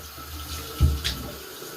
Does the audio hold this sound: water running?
yes